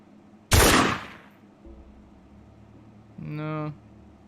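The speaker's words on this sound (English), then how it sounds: "Maybe just a gun sound?" A gun sound effect plays back during a game development session, one sharp loud blast with a decaying tail, followed later by a short buzzy tonal sound.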